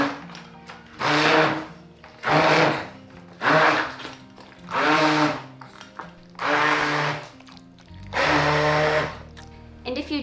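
A stick blender purees a thick bowl of pumpkin in six loud whirring bursts, each a few seconds long with brief pauses between, motor pitch shifting as it churns the dense mash.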